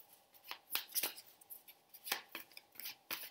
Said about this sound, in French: Donc, vous mélangez votre carte